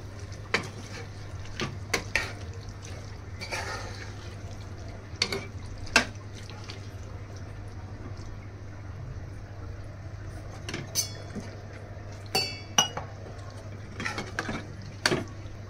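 Tender cashew and vegetable mixture stirred in a pan with a spoon, soft scraping and scattered sharp clinks of utensil against metal over a steady low hum, fairly quiet and close.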